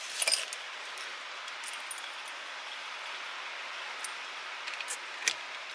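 Keys for a 1967 Jaguar E-Type jangle in a sharp burst at the start, followed by a few faint, scattered clinks over a quiet, hissy background.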